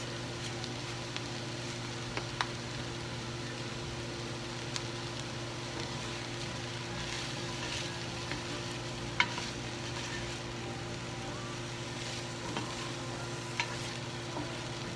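Onion and broccoli cooking in a pan: a faint, steady sizzle with occasional soft pops and clicks, no voices.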